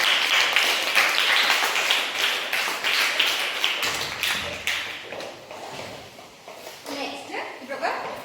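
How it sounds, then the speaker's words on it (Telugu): Children in a Balvikas activity class in Siddipet clap for Karthik, a run of quick, close, rhythmic claps that fades a little toward the end, mixed with a voice talking. "clap to Karthik"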